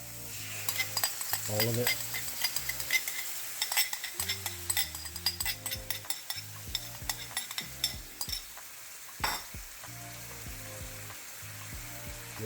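Stir-fried mixed vegetables with shallots, ginger and a sweet garlic sauce sizzle in a pan under irregular clinks and scrapes of a utensil. A quiet voice speaks briefly over the cooking.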